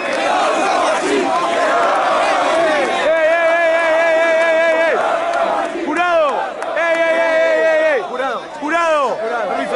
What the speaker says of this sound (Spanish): ¡Aplauso, Río Quilombo!